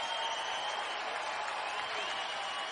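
A basketball crowd applauds and cheers R.J. Williams in a Boise State versus New Mexico game, a dense, steady wash of clapping and crowd noise with a broadcast voice faintly beneath.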